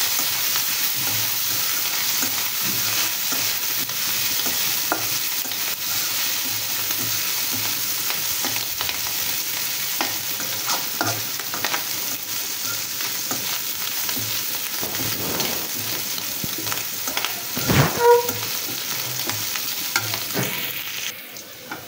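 Prawns fry in oil in a wok as they finish cooking, a steady close sizzle with frequent spatula scrapes and clinks, a louder clatter near the end, and no talking.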